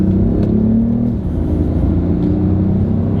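BMW i8 coupe accelerating hard, a loud low engine rumble with a steady droning pitch that dips briefly as a gear changes, then pulls on, heard close from inside the car without talking.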